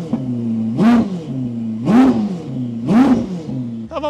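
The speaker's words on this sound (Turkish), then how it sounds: "Az gaz ver ısıt arabayı." A Ferrari engine being warmed up after a cold start gets three short throttle blips, each rising to a loud rev and falling back to a steady idle, close up and with no talk.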